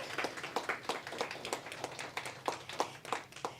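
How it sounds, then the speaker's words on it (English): Polite applause from a small audience at a school principals' coffee meeting, fairly quiet with uneven clapping throughout and no voices over it. "a round of applause for Miss Chan"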